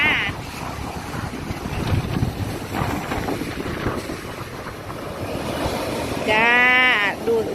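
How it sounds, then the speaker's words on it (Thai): Ocean waves wash steadily onto a beach at Mu Ko Lanta National Park, with wind buffeting the microphone throughout and a brief voice near the end. "ชายหาดเสียงคลื่นนะคะ"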